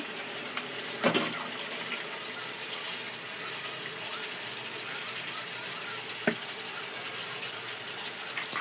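Biryani rice and spices tip into a pot of hot water, giving a quiet, continuous watery wash broken by two brief knocks, one early and one later, with no talking.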